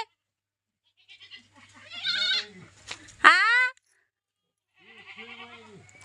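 Goats bleat in a village setting: a couple of close, wavering bleats in quick succession, a pause, then another softer bleat near the end.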